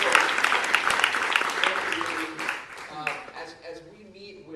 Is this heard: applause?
yes